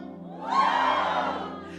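A church congregation shouts for joy together, a swelling burst of many voices cheering and whooping that rises sharply, holds for about a second, then fades back toward a quiet hall.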